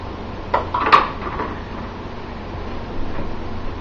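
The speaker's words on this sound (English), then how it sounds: "So we're going to start putting these in the pressure cooker." Glass canning jars of home-canned beans are set into a pressure cooker, giving a few close clinks and knocks of glass on metal early on, then a quieter low hum with faint clatter.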